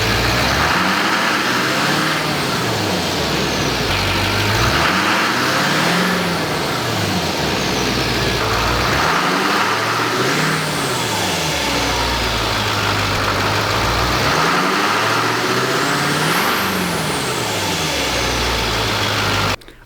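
A Duramax LMM diesel in a Silverado pickup fitted with a cold air intake runs close and loud: a steady clattering idle with a repeating, wavering whoosh and whistle throughout that cuts off abruptly at the end.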